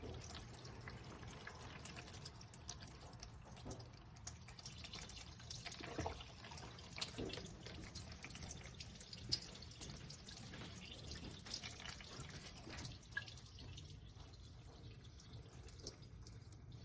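A faulty Gevi 10-cup drip coffee maker leaks water, giving a faint, continuous trickle with scattered soft drips and small splashes over a low background hiss, close by and without any talking.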